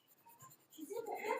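Soft, scratchy strokes of pencil on paper, quiet and close, growing a little brighter and denser toward the end.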